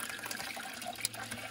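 Running tap water splashes steadily into a container being filled for a solar direct pump garden irrigation setup, a close, continuous watery rush.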